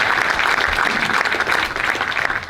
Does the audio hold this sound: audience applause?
yes